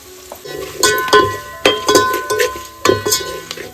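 Four bay leaves, chopped onion and spice masala sizzle in hot oil for tempering a village-style chicken curry, with bursts of crackling and repeated scrapes and clinks of a spoon against the pot, close up.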